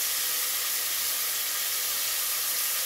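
Chopped tomato frying in a pan with ginger-garlic paste for mutton biryani, giving a steady, loud, even hiss and sizzle throughout with no talking.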